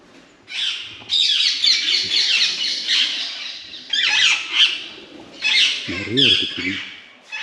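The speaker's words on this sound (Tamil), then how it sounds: "கிளி நிறையா இருக்குது இந்த ஏரியாவில்." Parrots squawk at Gandikota's Madhavaraya Perumal Temple in a series of loud, harsh bursts, with a brief human voice heard among them.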